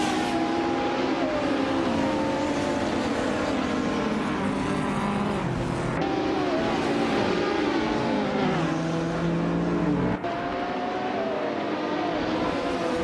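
Several race cars start together in a racing video game, a 1994 Bugatti EB 110 leading the pack, with engines revving and shifting in a dense, continuous roar and repeated pitch sweeps as gears change.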